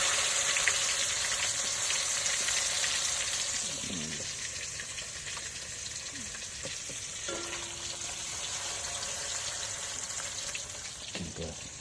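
Fish pieces fry in oil outdoors at a fish farm, a dense, even crackling hiss that holds steady throughout, with faint scattered knocks beneath it.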